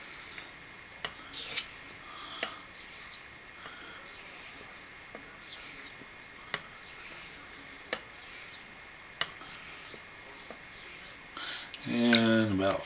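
A straight razor is honed with X strokes on a Chinese sharpening stone, giving a rhythmic series of soft, scraping swishes about once a second, close and quiet, with a brief clatter at the end.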